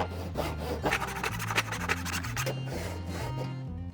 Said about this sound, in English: now I'm going to cut out these to that depth with my saw.